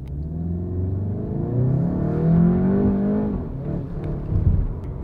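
A SEAT Leon Cupra 300 accelerates hard from inside the cabin, its engine note climbing steadily in pitch, then easing off and rising again, loud and close with a deep rumbling undertone.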